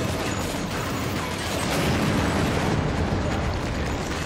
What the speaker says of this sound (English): People are shooting in the minigun section.